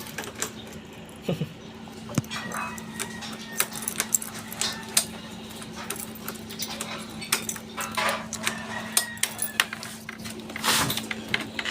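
Keys jangle as one is tried in a door lock, giving scattered close metallic clinks, scrapes and clicks over about twelve seconds against a quiet indoor hum.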